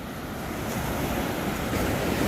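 Large ocean waves wash and roar steadily near a reef where fishing nets are set, a constant broadband surf with wind buffeting the microphone and no voices.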